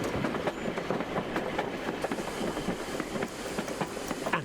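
A train rumbles steadily closer, its wheels clattering in a continuous rolling rhythm over the rails, loud and broadband throughout with no voices.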